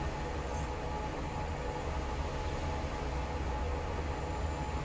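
Commuter train rolling through a station near an airport in the Transport Fever 2 simulation game, a steady, dense rumble that holds at a constant level with no talk over it.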